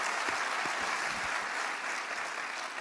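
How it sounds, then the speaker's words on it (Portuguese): A church congregation claps together in a soft, steady patter of applause that goes on for a few seconds, heard at a distance with no voices above it. "Vamos dar um aplauso para ele essa noite."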